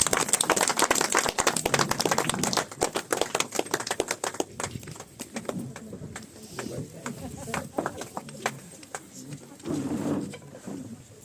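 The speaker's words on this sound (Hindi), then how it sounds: "थोड़ा सा एक बार जोर से ताली बजाइए" Audience at an RCM company meeting in Rajapur, Prayagraj claps loudly to welcome a speaker, a dense burst of many hands that thins into scattered, uneven applause with voices in the crowd.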